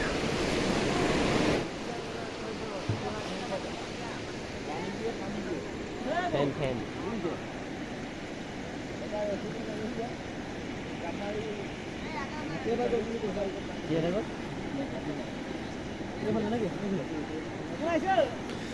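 At night the Chimen river rushes in a flash flood, giving a loud, continuous roar of churning, foaming water with gusty wind noise on the microphone and someone talking over it throughout.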